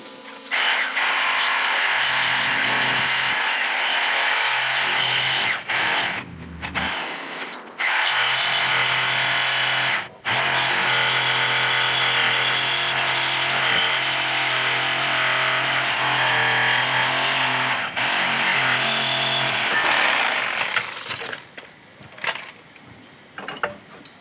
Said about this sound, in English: I'm going to cut it off and I'm going to cut the track bar off